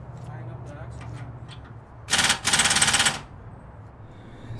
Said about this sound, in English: Now all I have to do is tighten up the axle.